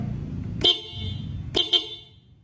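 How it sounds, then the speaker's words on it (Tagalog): Three sharp blasts of a dual disc motorcycle horn with a bright, piercing double-tone: one beep, a pause, then two quick beeps close together. "ito yung tunog ng dual disc"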